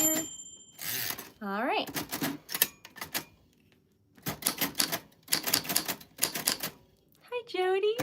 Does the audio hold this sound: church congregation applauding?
no